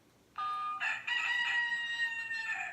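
An alarm clock plays a rooster-crowing tone: a loud, clear cock-a-doodle-doo call that starts abruptly and holds its long drawn-out final note, alone without talk.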